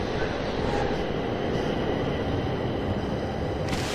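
Subway train in the video game The Darkness, a steady broadband rumble and roar that holds loud and even throughout, close and continuous with no talk over it.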